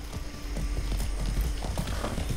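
Horse hooves clip-clopping at a steady, quick gait in the video game Far Cry 6, loud and close over a low rumbling background, with a brief whinny-like sound mixed in.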